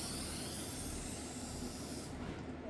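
WD-40 sprayed onto a Shelby Cobra windshield seal, a continuous close aerosol hiss that holds steady for about two seconds before cutting off.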